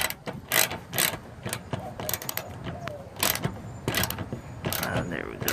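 A 10mm ratchet tightens a bumper bolt on a Subaru BRZ, Scion FR-S or Toyota GT86, with faint, close, irregular clicks and ticks spaced across several seconds.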